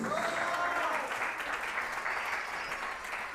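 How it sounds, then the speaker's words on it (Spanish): Church congregation applauding after a sermon, a steady wash of many hands clapping at moderate loudness throughout, with faint voices mixed in. "Dale un aplauso a Jesús."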